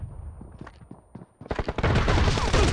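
Gunfire in a BGMI team deathmatch, a few scattered shots and footsteps giving way to dense rapid bursts of automatic fire, loud and close.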